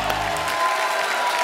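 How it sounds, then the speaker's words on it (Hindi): Studio audience applause on The Kapil Sharma Show, a Hindi comedy talk show, as a guest is introduced, a dense wash of clapping heard alone and fairly loud for a brief moment. "जोरदार तालियां हो जाए"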